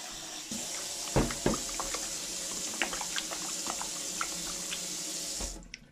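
Tap water runs steadily into a kitchen sink while raw chicken is washed with white vinegar and salt, with a few splashes and clinks over the stream before the flow cuts off near the end; no talking.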